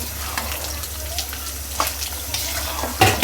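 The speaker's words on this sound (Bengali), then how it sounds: "মশলা কষায় মুরগি দিয়ে দিল" Chicken goes into sizzling spice masala in a pan, a close, steady frying hiss broken by stirring scrapes and a sharper burst of sizzle near the end.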